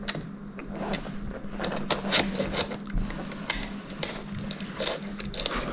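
Screws are driven into the brace of a WinWing throttle during assembly, a close, continuous run of small mechanical rattles and clicks with irregular sharp ticks throughout.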